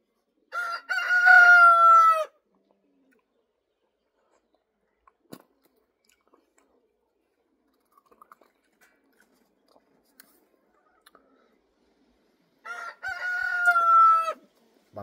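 A rooster crows twice inside a village chicken coop, each call long, loud and close, with a quiet stretch of faint clucks and small scratching noises in between.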